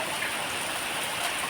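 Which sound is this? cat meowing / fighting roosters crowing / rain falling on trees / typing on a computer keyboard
rain falling on trees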